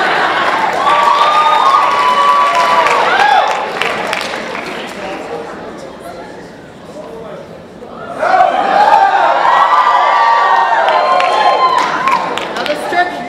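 Audience applause and cheering at a juggling act, a loud burst of clapping and shouts that dips briefly mid-way and then swells again, with crowd chatter mixed in.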